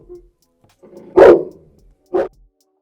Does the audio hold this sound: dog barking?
yes